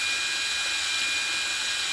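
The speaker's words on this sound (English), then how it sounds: "you can see how the drill twists that wire" A power drill spins slowly to twist wire for ornament hangers, giving a steady high-pitched whirring whine that stays constant and fairly loud throughout, with no talking.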